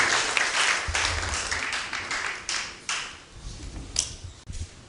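A church congregation claps together at a presidential investiture, a dense, lively ovation of many hands that swells and eases in waves, close and loud, with no clear talking.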